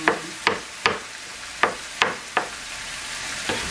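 Mango adobo ingredients browning in a pan, with a soft sizzling hiss beneath a series of sharp, evenly spaced scraping and tapping strokes from stirring, close and clear.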